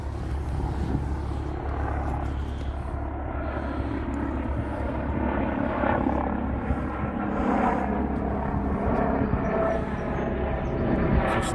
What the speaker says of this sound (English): Oh no, it's a normal helicopter.